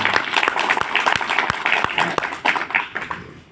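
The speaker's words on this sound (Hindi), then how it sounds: "इसके लिए आप लोग को ताली बजाना चाहिए।" An audience at a talk claps in scattered, uneven bursts, distinct individual claps standing out over a low murmur of voices, the clapping thinning toward the end.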